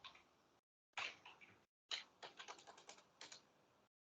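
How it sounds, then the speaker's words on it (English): Fingers typing on a computer keyboard in a lab session, quiet close clicks in three bursts of rapid keystrokes separated by short silent pauses, no voices. "let me type the answer here"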